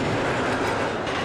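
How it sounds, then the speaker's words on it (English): A CSX intermodal freight train on the St. Louis to New York run, hauled by GE ES44AC-H and ET44AH locomotives, rumbles past close by in a steady, loud wash of rolling wheel and car noise. "Train I-008 is a Tuesday through Sunday intermodal train that carries intermodal traffic between St. Louis, Missouri and New York"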